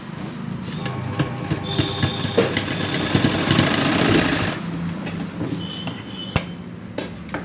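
A sewing machine stitches fabric for a baby's shorts, its motor whirring in a continuous mechanical run that rises and fades, with a few sharp clicks near the end.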